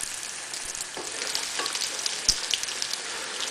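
Chicken nuggets frying in a hot pan, a steady bright sizzle throughout with a few small pops and crackles, close and fairly loud, no voices.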